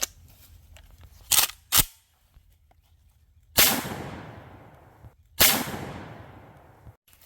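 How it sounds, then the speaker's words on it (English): A KSG shotgun fires at targets outdoors. Two sharp cracks come close together, then two louder blasts follow with long echoing tails, all with no speech. "let Callan use the KSG to hit our last 2 targets."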